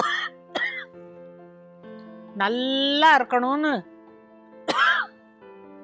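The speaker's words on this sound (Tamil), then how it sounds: "எனக்கு இருமல் பயங்கரமா இருக்கு" A few short coughs and throat-clearing sounds break up a man's speech, close to the microphone.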